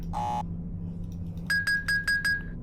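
Electronic tones from the video game realMyst: one sustained beep, then a quick run of five short, bright chime-like beeps over a low background hum.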